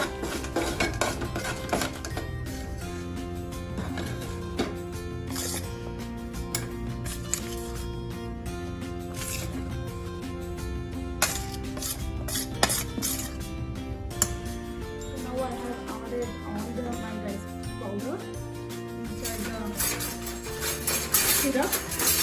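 Athrasa (kajjaya) sweet mixture being stirred in a pan, with a busy run of metallic scraping and clattering of a utensil against the pan throughout.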